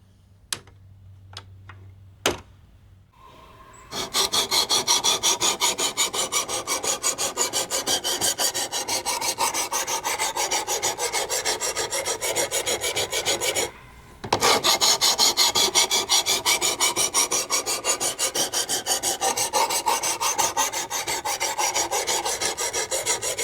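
Knife blade drawn in steady, rapid strokes across a dry diamond whetstone, a continuous rasping scrape close up with a brief pause midway, preceded by a few isolated clicks.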